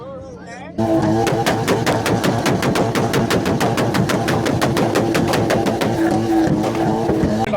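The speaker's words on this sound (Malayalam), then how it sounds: "എന്ത് വണ്ടിയുടെ പൊട്ടങ്ങൾ കേൾക്കുന്നത്" Rally car exhausts crackling and popping like firecrackers at a Kandura Rally in Dubai, a loud, rapid, sustained barrage of sharp bangs over engine roar, starting abruptly after a brief quiet moment.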